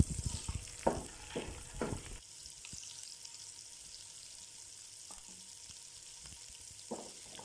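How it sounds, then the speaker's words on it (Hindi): Hot ghee sizzles steadily in a pan for a tempering with ginger, with a few clattering stirring strokes early on, then a quieter, even crackle and an occasional scrape. "अब ये तड़का लगाते हैं इसका"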